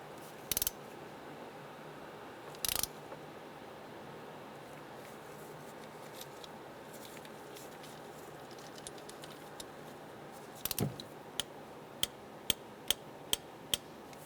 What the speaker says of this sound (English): So we're going to torque this down to 13 foot-pounds.